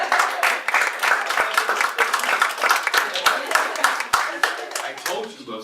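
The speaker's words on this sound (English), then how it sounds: "A round of applause" Audience members at a hiring-resources presentation clap for an attendee. The close, uneven clapping has individual hand claps distinct within it, and it tapers off near the end.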